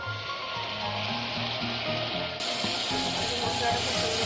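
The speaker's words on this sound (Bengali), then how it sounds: "মশলার মধ্যে সামান্য পরিমাণে একটু জল দিয়ে দিলাম" A little water poured into frying spices for a home-style chicken curry sets off a loud, steady hiss and sizzle close by, with a faint rhythmic background tone.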